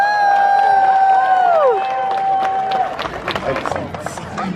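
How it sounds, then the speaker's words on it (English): An outdoor crowd at a Renaissance fair fire whip and sword show claps and cheers, with scattered whoops and hand claps over a busy murmur, following a long sliding whistle-like tone. "It gets a round of applause."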